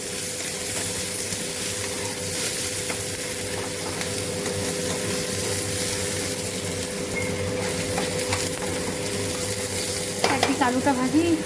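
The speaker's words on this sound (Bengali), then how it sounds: "তেলটা গরম হয়ে গেছে, চলো না মাছের আলুটা একবার একটু ভেজে নিই।" Potatoes for a fish curry frying in hot oil: a continuous close sizzle with stirring scrapes, steady throughout, and a brief metallic clink near the end.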